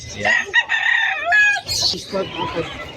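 A rooster crows loudly and close by, one drawn-out call with rising and falling pitch, followed by softer clucking and squawks.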